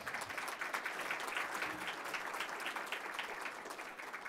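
Audience applause at a civic club forum on election results, a broad, steady wash of clapping from a crowd in a hall, fairly soft and distant, sustained evenly throughout.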